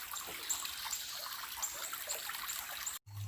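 Creek water at Lick Creek on the Appalachian Trail trickles and babbles continuously below a bridge, a steady hissing flow heard alone until a brief cut near the end.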